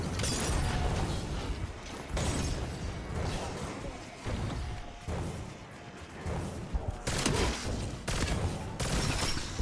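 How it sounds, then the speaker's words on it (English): A Molotov cocktail thrown and burning in a first-person shooter game, with crackling fire and bursts of gunfire running steadily throughout, loud and busy, while players talk over it. "Throwing incendiary."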